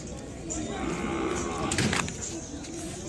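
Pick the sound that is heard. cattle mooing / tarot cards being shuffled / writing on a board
cattle mooing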